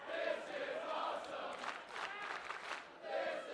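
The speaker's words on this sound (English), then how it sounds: "Crowd appreciative of the efforts of both competitors thus far in the contest" Pro wrestling crowd in an arena roaring and cheering in swelling waves, a dense mass of voices rising and falling at a moderate distance without clear speech on top.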